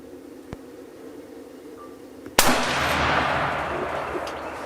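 A single loud gunshot or cannon blast from old firearms fired at a lawn mower outdoors, a sharp broadband crack at mid-clip followed by a long noisy rumble and echo, preceded by a faint tick and a quiet hum.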